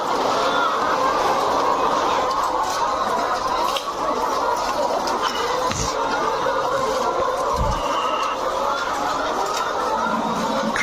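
A large flock of layer hens on a poultry farm clucks and chatters in a dense, continuous din, with steady overlapping calls and a few sharper thumps.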